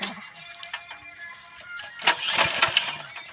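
A mini tractor stuck in a field cranks repeatedly while failing to start, with a faint, busy background that swells into louder cranking bursts near the end, no talk heard.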